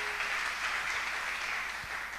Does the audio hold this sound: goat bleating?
no